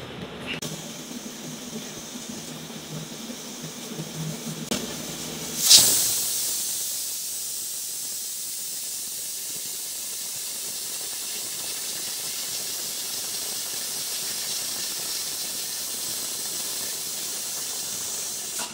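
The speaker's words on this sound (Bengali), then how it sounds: "দেখবো আমরা এই প্রেশার কুকারে কয়টা শীষ দিয়ে এই নেহারিটা রান্না" A pressure cooker cooking beef trotter nihari lets out a sharp whistle followed by a long, steady hiss of escaping steam that continues loudly to the end.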